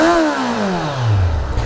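A Kawasaki Z900 motorcycle engine with its stock exhaust, loud and close, its pitch sliding steadily downward as it winds down toward idle, with a rough rattling at the end.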